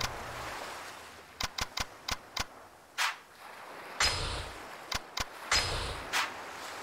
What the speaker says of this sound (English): For some reason, the sound of this bell stirs a feeling of sadness within you.